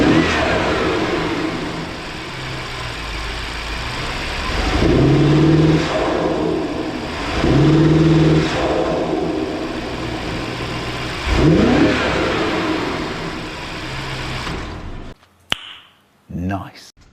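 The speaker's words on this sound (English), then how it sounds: "Start it up now and see if you can hear the turbos." A BMW 550i with the N63 twin-turbo engine and aftermarket cold air intakes idles with a deep rumble, rising twice in pronounced revs and once more in a sharp blip before shutting off; a voice talks briefly.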